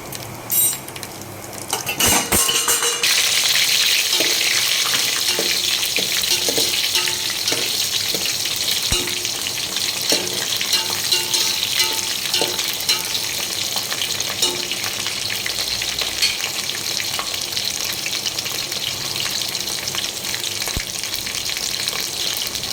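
Mustard and cumin seeds fry in hot oil for sambhar, producing a loud continuous sizzle with crackling pops up close after a brief clattering start, lasting throughout without speech.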